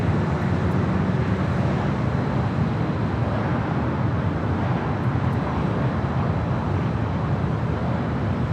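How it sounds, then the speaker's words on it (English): Airplanes taking off from runway 24 left at LAX, a steady broadband jet roar heard from a distance that holds without a break. "Oh, what a series of takeoffs on 24 left."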